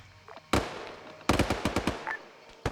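Minigun fire in a military shooter game, sharp bursts of rapid shots with a short pause, then a longer ragged string of cracks and a final lone shot, fairly close.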